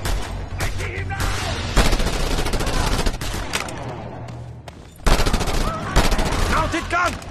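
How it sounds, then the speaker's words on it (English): A mounted gun fires in the open-world action game Just Cause 2. Rapid automatic bursts rattle loudly and densely, broken by a short lull before heavy fire resumes. "Mounted gun! Scorpio, take care of it!"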